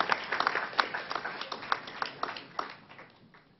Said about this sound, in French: je voudrais qu'on s'encourage en nous applaudissant, nous tous